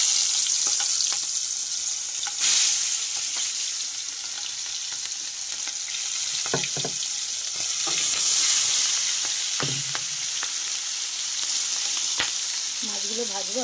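Prawns fry in mustard oil in a pan, producing a continuous close sizzle with occasional clicks and scrapes of stirring.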